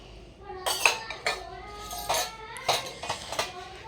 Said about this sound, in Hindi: अब चलते हैं इन बर्तनों को लेकर के धुल देते हैं पूजा रूम में